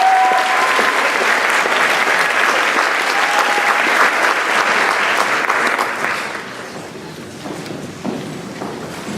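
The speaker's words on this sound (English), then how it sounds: "Let's give a big round of applause to all of these." A high school audience at a senior awards ceremony gives loud, sustained applause that fills the hall, then thins and fades toward the end.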